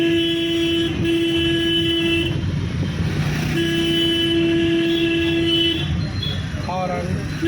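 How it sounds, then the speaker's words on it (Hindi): A car horn honks twice in long, steady blasts during a night driving lesson, loud and close, with an instructor's voice talking over the traffic noise. "हॉर्न दो"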